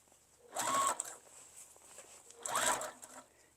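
A sewing machine back stitching along the edge of a tote bag gives two short, fairly quiet whirring runs, each under half a second, separated by a pause.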